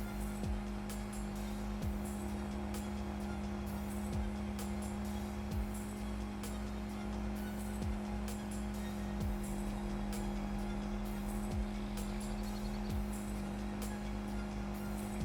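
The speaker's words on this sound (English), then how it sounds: "Let's get the truck. Just get the truck going all the way around" A truck driving in the video game Farming Simulator 22: a steady engine drone with a constant low hum, with soft repeating thumps and clicks at a regular pace and no voices.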